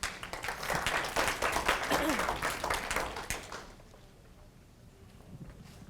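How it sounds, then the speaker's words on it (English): Attendees at a hospital service-excellence training workshop break into brisk applause that holds for a few seconds, then fades into a quiet room with faint talk. "So give yourself a round of applause."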